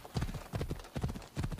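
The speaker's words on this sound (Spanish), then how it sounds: "Para estos momentos de caminar en caballo." Horse hooves clip-clop at a steady walking pace in Assassin's Creed Odyssey, a rhythmic series of muffled thuds at moderate level with a faint snort or whinny and no talk.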